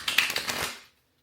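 Enchanted Mushroom Tarot cards shuffled by hand up close, a quick run of crisp riffling flicks lasting under a second, then silence.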